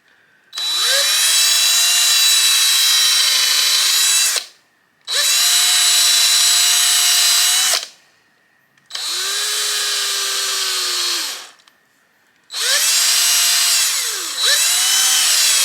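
A power drill clears glue out of pre-drilled holes in a large rat swimbait lure, whirring loudly in four long bursts of several seconds each, separated by short pauses, with the pitch sagging slightly under load.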